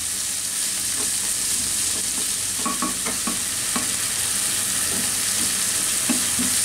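Tomatoes and onions frying in a pan for tomato fried rice make a constant crackling sizzle, with repeated scraping and tapping as a spatula stirs them, and no talking.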